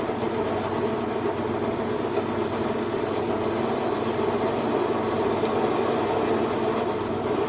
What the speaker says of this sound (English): I am over chamfering it because I know I'm going to cut it down a little bit